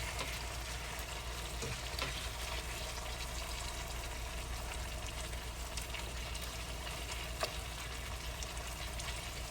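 Fatty ground beef for tacos fries in a pan, a steady, dense sizzle and crackle that holds evenly throughout, close and moderately quiet, with no talking.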